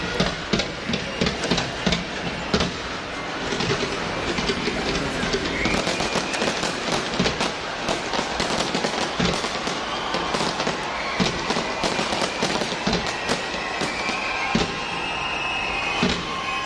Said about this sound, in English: they're blowing up fireworks at New Year's